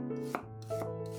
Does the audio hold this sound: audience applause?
no